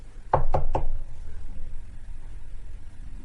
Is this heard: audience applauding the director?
no